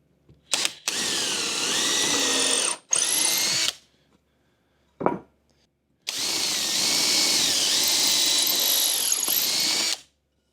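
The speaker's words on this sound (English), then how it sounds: "I'm just going to pre-drill some holes in there" A power drill whirs through wood in several bursts, a few short and two long, loud and close, with brief pauses between runs, pre-drilling holes inside an RV during a bench seat remodel.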